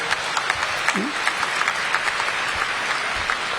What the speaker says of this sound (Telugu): so please give them a big hand of applause